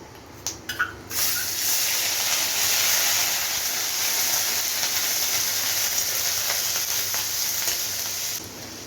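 Ginger garlic paste frying in a pan for rohu fish korma, a steady loud sizzle that starts after a few brief clinks and holds throughout, then cuts off near the end.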